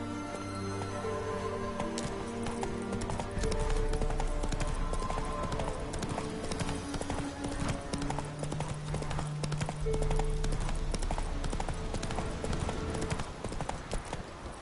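Horse hooves clip-clop steadily at a gallop in The Witcher 3 video game, loud and continuous throughout over a bed of game music and ambience.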